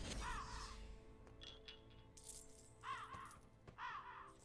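Caw-like calls from a raven or crow in the Lego The Hobbit video game, two or three harsh bursts spaced across the moment over a steady game background of faint tones and clinks.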